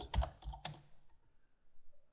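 A few quick keystrokes on a computer keyboard, faint and close, fading into near silence.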